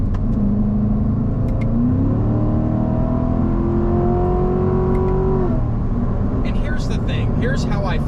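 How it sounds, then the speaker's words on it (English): Chevrolet Corvette C7 1LT, a 2019 model, driving with a loud, steady exhaust note that rises in pitch through the gears, then settles, with a voice talking over the engine. "So the exhaust is very dramatic feeling, which is good."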